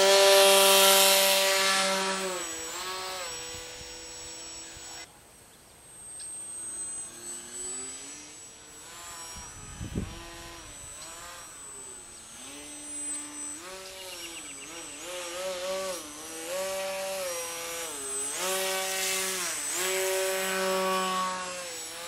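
An RCPowers Extra 300 model airplane on its maiden flight, its electric motor whining with a steady tone that rises and falls in pitch as the plane passes, clear and continuous outdoors with little talk.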